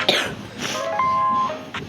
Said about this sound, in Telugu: నాకైతే చాలా దగ్గు వచ్చింది